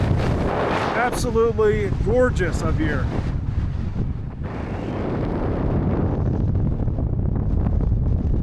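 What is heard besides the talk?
wind blowing on a mountain pass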